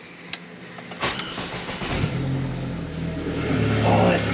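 A 2004 Saab 9-3 Aero fitted with a new exhaust cranks over and fires up, a brief clunk then a starter whir before the engine catches and settles into a loud, rising idle nearby.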